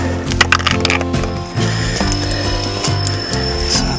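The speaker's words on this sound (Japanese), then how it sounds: "その後ラチェットで何ミリかな、14ミリ" A ratchet wrench turning a 14 mm bolt inside a car during seat cover installation, close and loud, with rapid clicking bursts in repeated strokes separated by short pauses.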